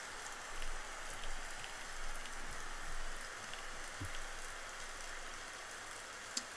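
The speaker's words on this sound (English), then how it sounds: "And it's raining again." Steady rain patters down in the Rising World game, a soft continuous hiss of drops striking surfaces with gentle swells and no talking over it.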